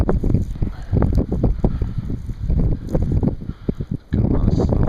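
Strong wind buffets the microphone during a major blizzard in Racine, Wisconsin, a loud, continuous low roar with gusty surges that briefly drops off near the end.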